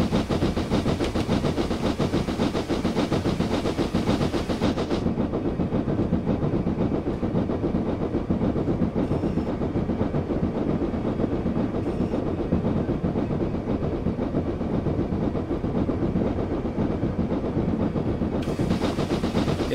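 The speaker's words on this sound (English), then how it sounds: "It's still blowing steam everywhere." Steam locomotive in Train Simulator 2019 on the Outeniqua Choo Tjoe route, blowing off steam as a loud, steady hiss over engine rumble and rail clatter that runs unbroken throughout.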